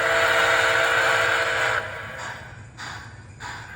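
A steady, sustained steam whistle sounds from an MTH Nickel Plate Road model train locomotive, then cuts out and is followed by shorter whistle toots.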